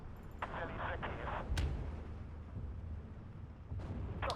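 Gunfire and artillery crackle in the Steel Division 2 battle as a dense, muffled rumble of distant shots and blasts, faint and continuous, with a few sharper cracks standing out.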